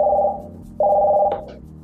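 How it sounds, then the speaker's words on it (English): Two short electronic tones sound close up as speed dial is triggered on a Speakerbus iTurret phone turret, a held beep, a brief gap, then a second beep ending in a small click. "Once I press the line, you can see that my speed dial has worked."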